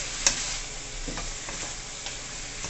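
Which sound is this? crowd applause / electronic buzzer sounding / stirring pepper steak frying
stirring pepper steak frying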